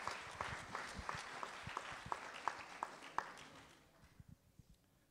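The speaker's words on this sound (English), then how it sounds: "I think that deserves a round of applause" Applause from an audience at a presentation on the science of Black hair, a dense patter with sharper individual claps standing out in a steady rhythm, fading to scattered claps by the end.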